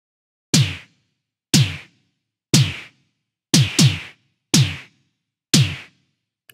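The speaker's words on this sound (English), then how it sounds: "I recorded a snare pattern in Cubase and mixed both snares together" A crisp snare from a Korg MS-20 analog synthesizer strikes about once per second, alone, each hit sharp and snappy with a short decaying tail, one beat doubled into a quick flam.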